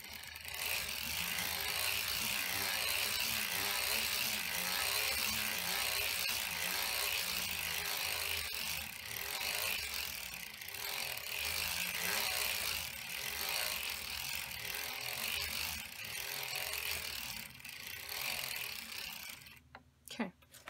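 A hand-cranked sock knitting machine turns continuously, giving a dense, steady ratcheting clatter close by for nearly twenty seconds before stopping with a few final clicks.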